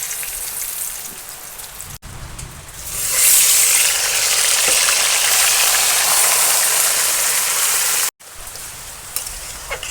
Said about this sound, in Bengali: একটা শুকনো লঙ্কা দিয়ে দিচ্ছি, দুটো তেজপাতা দিয়ে দিচ্ছি